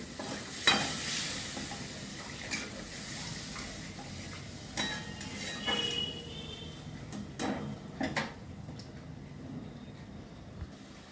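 Masala spices with turmeric are sautéed in a pan for a spiced pointed-gourd dish, giving a soft, continuous sizzle broken by occasional stirring scrapes and taps.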